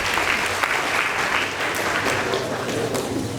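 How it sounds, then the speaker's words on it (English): Steady, dense applause from an audience at a high school debate contest, continuous and fairly loud throughout, with a faint crowd murmur beneath. "Please give them a round of applause"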